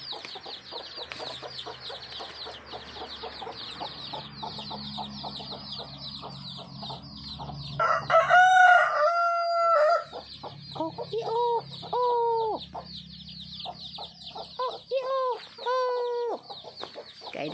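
Black chickens on a farm in Phetchabun, Thailand, including a flock with many chicks, cluck softly and repeatedly while a rooster crows loudly several times close by, drowning the clucking in drawn-out calls.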